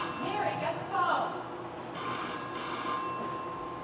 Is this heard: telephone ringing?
yes